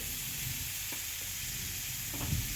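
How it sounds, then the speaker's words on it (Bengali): Cauliflower coated in salt and turmeric fries in hot oil, giving a soft, steady sizzle with a couple of faint stirring clinks. "তেলের মধ্যে ফুলকপিটা ভেজে নিচ্ছি"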